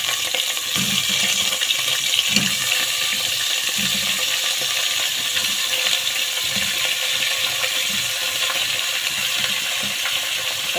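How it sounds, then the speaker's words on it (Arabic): Pieces of washed meat go into a hot pot and set off a loud, continuous sizzle and hiss close by, with faint low thumps underneath as they settle. "هنزل بقى بقطع اللحمه"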